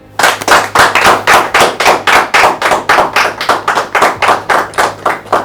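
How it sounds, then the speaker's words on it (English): Applause for presenter search finalists at a TV season finale, heard as a close, loud, rhythmic series of about twenty evenly spaced hand claps in unison, like a pulsing clap-along, with a low hum underneath. "A big round of applause."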